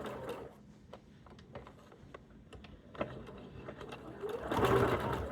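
A sewing machine stitches steadily with a soft rapid ticking, fairly quiet and close, picking up speed and loudness toward the end.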